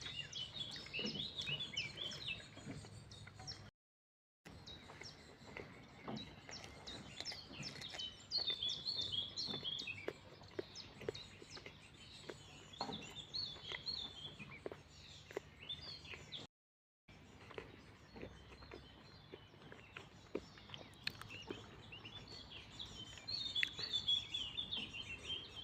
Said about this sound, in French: On peut entendre les oiseaux chanter.